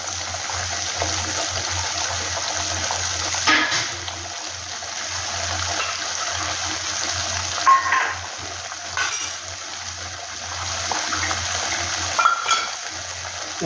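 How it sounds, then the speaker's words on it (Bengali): Water from a rinsed spice bowl pouring into a cooking pot while making a cabbage muitha dish, a steady moderate splashing trickle lasting throughout with a few louder splashes, close by and without talk. "এখন মশলা বাটি ধোয়া জলটা আমি দিয়ে দিচ্ছি।"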